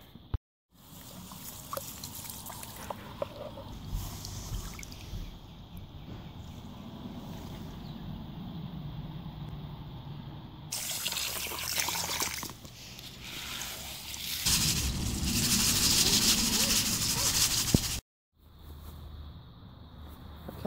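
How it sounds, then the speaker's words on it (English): Fine gravel and pebbles being rinsed of mud in water, with sloshing, swirling and splashing close to the mic, growing louder toward the end before a short pause. "now I'll float all the floaties out of that and rinse off any"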